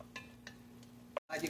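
Pancit miki guisado with liver being stirred and mixed in a pan, soft scraping and light sizzling strokes close up, with a couple of brief clinks before a short pause.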